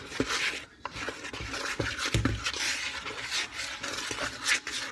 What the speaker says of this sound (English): I'm whisking all the dry together.